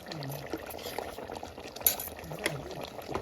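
Thick ground curry paste boils in a pot for cashew chicken, with irregular bubbling pops and gurgles, close by and moderately loud, with a faint voice in the background.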